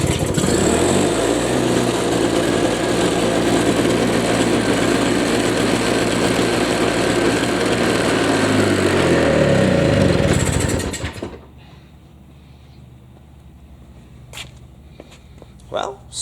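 A Toro CCR 2000 snowblower's small engine runs loud and steady for about eleven seconds, then cuts off abruptly, leaving quiet background with a few faint knocks.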